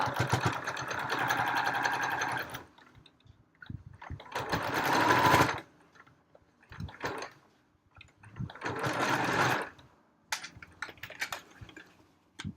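A sewing machine runs in several bursts of rapid, buzzing stitching, separated by quiet pauses with small clicks and handling sounds.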